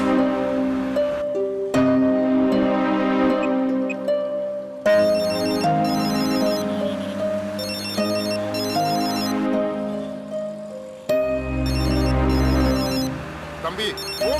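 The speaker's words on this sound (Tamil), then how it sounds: "தம்பி போன் வருது, அட்டன் பண்ண வேண்டியதானப்பா?" A mobile phone ringtone plays loudly and steadily, a repeating melodic electronic ring that cycles several times with brief breaks, heard during a car ride in a Tamil TV drama scene.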